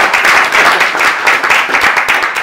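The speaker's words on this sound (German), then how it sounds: "Jetzt, damit die Stimmung ein bisschen geht, ein bisschen Applaus" Dense, steady applause from a crowd at a wrestling press conference, many hands clapping close by and loud throughout.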